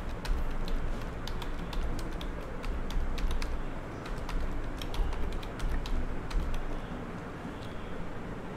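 Steady typing on a computer keyboard during a ChatGPT SEO tutorial, a dense run of close key clicks over a constant background hum, with no one speaking.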